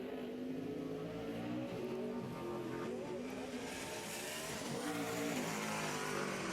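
A NASCAR Nationwide Series race car laps the Montreal circuit in 2009 qualifying, its engine roaring steadily at high revs with shifting pitch as it accelerates and passes.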